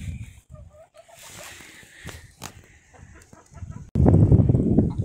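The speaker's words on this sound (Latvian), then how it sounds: "Šīm divām vistām tiešām patīk perēt. Un viņas ir ļoti dusmīgas." Broody hens on a farm give soft, low clucks and murmurs close by, with faint scratching and rustling, before a louder burst of mixed rustling and clucking near the end.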